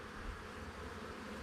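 Honeybees buzzing around an open hive frame during an inspection, a faint, steady, close drone with no talk over it.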